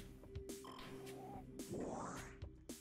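A frog creature in the Metroid Prime video game lets out a few short, wobbling croaks with a rising, bending call, heard over steady game ambience.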